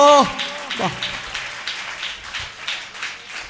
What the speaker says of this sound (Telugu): గట్టిగా చప్పలు కొడదాం యేసయ్యకి మనం